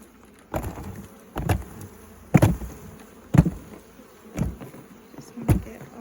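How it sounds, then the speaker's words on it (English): Honeybees flying around a hive box as a nucleus colony is moved into a full-size hive, with steady faint buzzing broken by six sharp, loud taps or thumps spaced about a second apart. "Just want to get all the bees out that we can"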